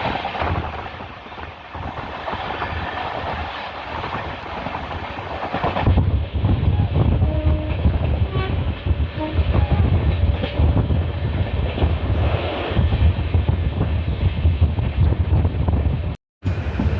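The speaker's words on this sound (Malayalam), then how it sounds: "ട്രെയിനിൻ്റെ ആക്സലറേഷൻ നല്ലപോലെ ഫീൽ ചെയ്യാൻ പറ്റുന്നുണ്ട് ഇവിടെ" From inside the Jan Shatabdi express in Kerala, the train picks up speed through a station, giving a continuous rolling rumble and rail clatter that grows louder partway through, with wind buffeting the microphone.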